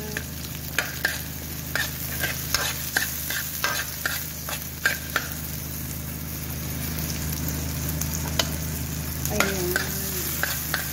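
Onions sautéing in a pan for ginisang repolyo, a Filipino sautéed cabbage dish: quick rhythmic scraping and clinking of a utensil during the first half, then a steady sizzle carrying on alone, close up and with no voices.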